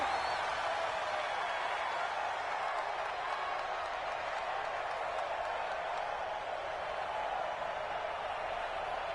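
Stadium crowd at a Seattle Seahawks versus Chicago Bears football game, a steady loud roar of cheering and applause that fills the whole span without letting up.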